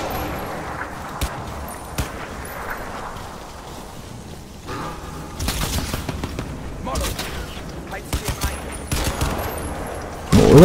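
A mounted gun fires in Crysis 2 in rapid bursts of sharp shots with game sounds between them, ending in a louder burst.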